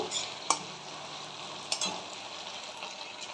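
Ground spices with salt, turmeric and Kashmiri chilli powder stirred and sautéed in a frying pan for potato chops, a steady close sizzle punctuated by two sharp spatula scrapes, with no voices.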